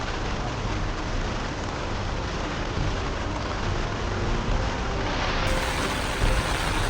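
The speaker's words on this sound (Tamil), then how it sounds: "இது நல்ல மழை" Heavy rain in hill country during a landslide, a thick continuous roar of downpour, loud and unbroken, with faint voices underneath.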